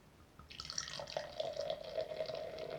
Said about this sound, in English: Let's get pouring.